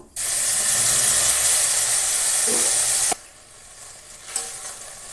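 Raw hilsa fish dropped into hot oil with a cumin tempering makes a loud, bright hiss that runs for about three seconds, then cuts to a low simmering crackle with one sharp utensil tap near the end.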